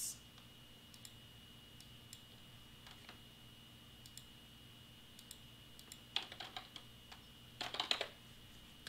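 Typing on a computer keyboard while entering text into design software: faint, scattered key clicks that grow into short quick bursts toward the end, close by and with no talk.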